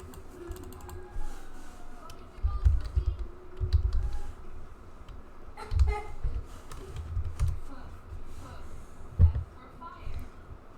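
Fingers type on a computer keyboard in irregular bursts of clicky keystrokes with pauses between them, while a voice talks quietly in the background.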